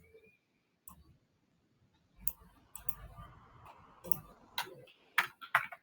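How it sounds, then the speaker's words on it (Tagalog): A computer keyboard is typed on with scattered clicks, starting sparse and quiet and then turning into irregular bursts of close, crisp keystrokes with a few sharper clicks near the end. "I'm using my keyboard."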